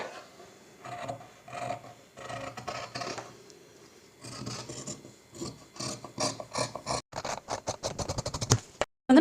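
Scissors cut through fabric for a sleeve in a series of close, crisp snips and rasps. The cuts start in short clusters, then speed up into a quick run of sharp snips at the end.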